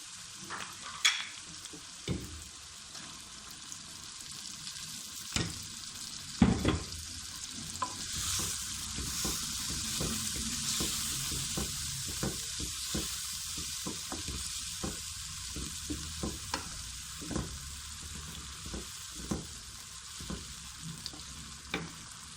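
Tomato paste frying in a pan of achar gosht, a steady close sizzle with frequent scraping stirs and spoon knocks throughout, no voices.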